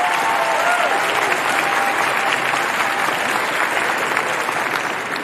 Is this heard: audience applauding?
yes